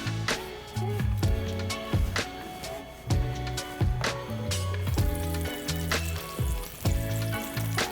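Butter sizzling in olive oil in a pan, a loud, steady frying crackle heard under a layer of rhythmic, tonal background music.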